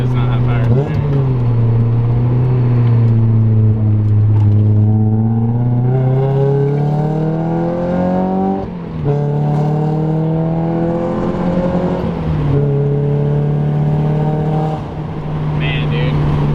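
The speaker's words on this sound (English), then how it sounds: "Car sounds so refined, it sounds so good." A 1999-2005 Mazda Miata drift car's engine revs loudly and close by, pitch climbing and dropping in several repeated surges over a steady, throaty idle.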